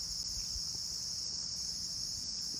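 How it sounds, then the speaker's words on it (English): Peepers chirp in a steady high-pitched chorus on a still, sunny August morning after days of rain, a continuous faint background drone with no talk. "You hear all the peepers in the background."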